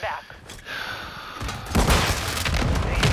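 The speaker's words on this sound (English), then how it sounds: "I threw a mortar at him" A mortar explosion in the video game Call of Duty: Modern Warfare II, a broad rumbling boom that swells in about halfway through and keeps roaring loudly to the end, after a quieter stretch with faint breathy vocal sounds.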